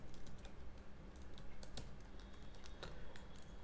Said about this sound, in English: So here now I have to enter the password.